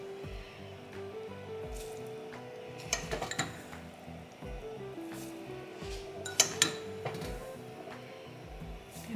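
A spoon stirs cheese sauce into macaroni in a pot, giving soft scraping and occasional clinks against the metal. A few clusters of sharper taps stand out over a low, steady background hum, close by, with no talking.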